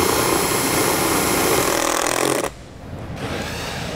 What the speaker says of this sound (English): We're just going to drill it right into that bar.